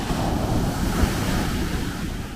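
Ocean waves breaking on the shore at the coastal community of Fuveme, a steady, loud, continuous surf roar mixed with gusty wind noise on the microphone, with no voices.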